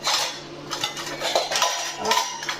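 Metal kitchen utensils, pots and vessels clink and clatter as they are stacked and hung on a rack in a home kitchen, a close, busy jangle of repeated metallic knocks.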